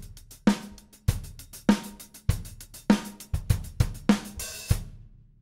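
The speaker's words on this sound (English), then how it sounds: "first we're going to start with a 16th note pattern on the hi-hat" A drum kit plays a straight-ahead 16th-note groove on the hi-hat, with steady ticking cymbal strokes and regular kick and snare accents, close and moderately loud with no talking.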